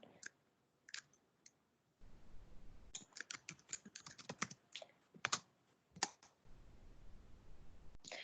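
Someone types on a computer keyboard at close range in irregular bursts of quick clicks with short pauses, quiet and without talking, during an online academic literacy class.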